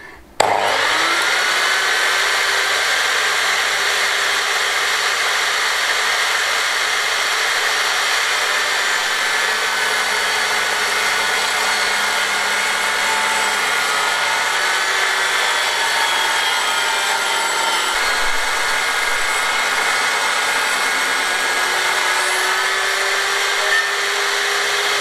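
Power saw cutting through a big wooden board outdoors on a Spanish farm, a loud steady whine that holds for the whole stretch with slight shifts in pitch, close and uninterrupted, no talking.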